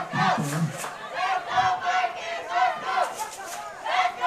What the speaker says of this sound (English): Crowd seems to be getting into it.